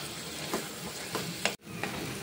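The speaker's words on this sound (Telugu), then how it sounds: "అదే వేస్తున్నాను ఆయిల్లో. ఉల్లిపాయ పచ్చిమిరపకాయ మిక్సీ పట్టుకున్నాం కదా, అదే వేస్తున్నాను. ఇది కొంచెం వేగాలి." Ground onion and green chili paste frying in oil in a pan, a steady soft sizzle with a few light stirring scrapes and one brief break.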